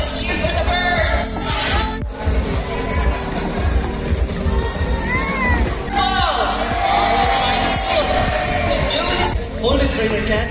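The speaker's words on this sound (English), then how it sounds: "let's cheer for the birds!" A crowd at a bird show in Cebu Ocean Park cheers and whoops loudly and continuously, with excited voices and shouts overlapping in an open, busy setting.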